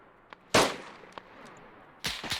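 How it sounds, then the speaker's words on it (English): Gunfire in a video-game recreation of the Battle of Raate Road: two loud, sharp broadband bursts about a second and a half apart, with a few faint distant shot cracks in between. "he's shooting at guys in the open"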